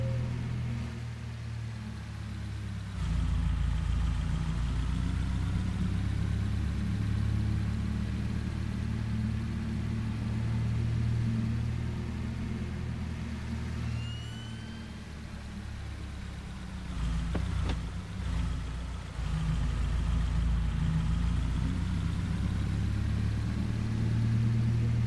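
A car engine drones steadily while driving in a farming roleplay video game, a continuous low rumble that dips briefly a couple of times before settling back, with no talk.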